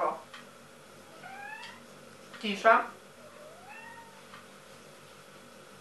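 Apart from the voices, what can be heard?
cat meowing loudly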